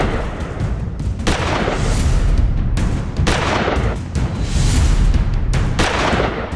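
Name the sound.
pistol gunfire caught on CCTV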